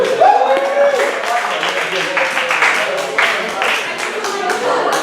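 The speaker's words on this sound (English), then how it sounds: "A good scattered applause." Scattered, sparse applause comes from a comedy show audience, thin claps under a person talking.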